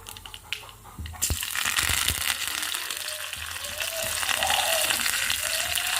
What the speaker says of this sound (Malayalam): അപ്പോൾ നമ്മുടെ കടുക് പൊട്ടി തുടങ്ങി. ഇനി അതിലേക്ക് കറിവേപ്പില ഇട്ട് കൊടുക്കാം.